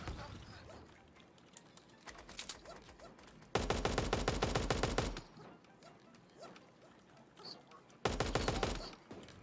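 Rapid bursts of gunfire from the online battle game Super Animal Royale, including a hunting rifle, come in several loud volleys separated by quieter gaps, with faint background noise in between.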